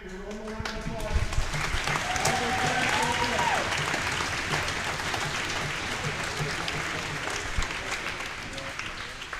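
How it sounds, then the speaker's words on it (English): An audience at a provincial tier 2 hockey tournament game in Lloydminster claps in a steady sustained round, with voices talking and calling out over the applause. "Everybody, one more round of applause."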